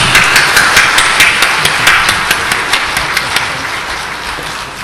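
A church congregation applauding after a hymn, steady sustained clapping that stays loud and fades slightly toward the end, no voices over it.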